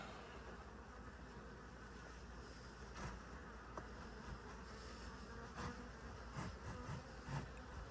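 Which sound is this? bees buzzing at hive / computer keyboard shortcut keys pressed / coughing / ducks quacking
bees buzzing at hive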